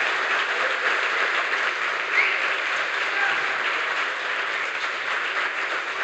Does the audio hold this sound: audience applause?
yes